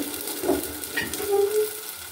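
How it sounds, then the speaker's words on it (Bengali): A spoon stirring tomato paste into onions frying in a pan for Punjabi dal tadka, soft scraping strokes over a light sizzle, close and quiet with no talking. "টমেটোর পেস্ট দিয়ে নাড়িয়ে নেব"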